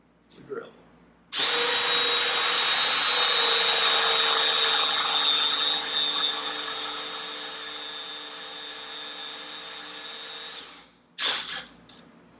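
A power drill whirs loudly and steadily for about ten seconds, its pitch sagging slightly under load, then cuts off, followed by brief clattering.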